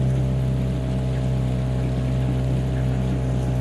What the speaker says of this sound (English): I'm just doing like displacement speed there now, just while the engine warms up